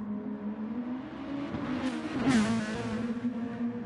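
A race car engine in Gran Turismo Sport holds a steady mid-pitched drone that rises in a brief revving sweep midway, heard close and continuous without talk.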